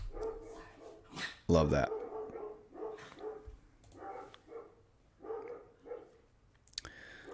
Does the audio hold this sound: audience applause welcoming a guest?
no